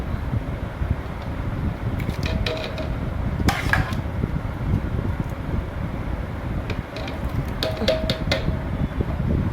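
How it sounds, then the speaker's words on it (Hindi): An electric grinder blends haleem ingredients in a jug with a steady, close whirring roar that holds evenly throughout, with a few brief higher clatters on top. "और इससे करूँगी, ग्राइंडर करूँगी"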